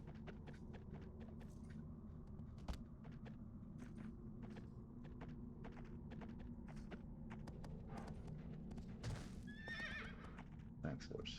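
A horse in a video game whinnies and neighs while hooves clip-clop at a walk over a low rumbling background, with a louder neigh toward the end and a voice talking in the mix.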